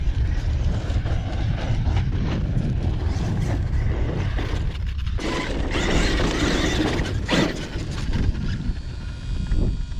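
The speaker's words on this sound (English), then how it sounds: "Yep, still hear the fan running." A steady mechanical whir from the cooling fan of an Arrma Outcast 8S EXB RC car, with a faint ticking, ratchet-like texture, running continuously at an even level, close by, with no talking.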